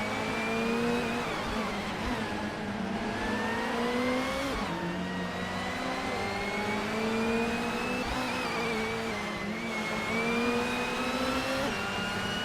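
A 1989 Toyota Celica racing car engine from a video game drones loudly and steadily, its pitch climbing through gears and dropping at each shift, with no talk over it.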